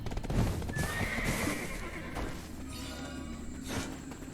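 A horse in the Black Desert Online video game gives a loud whinny over the clip-clop of hooves, with a few thuds and a second shorter neigh near the end.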